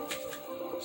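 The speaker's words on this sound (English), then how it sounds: "I'm gonna shuffle it one more time." Tarot cards shuffled by hand, a soft, brief riffling patter heard up close.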